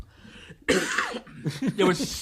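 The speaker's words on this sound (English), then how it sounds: "He coughs right in his face." A person gives a sharp, harsh cough that breaks through ongoing conversation, followed by more talking.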